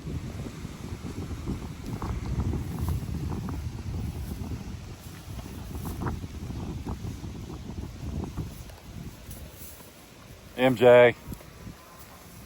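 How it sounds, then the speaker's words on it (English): Strong wind buffets the microphone in a continuous low roar outdoors, with a person speaking over it and a short higher-pitched call near the end. "It is so windy."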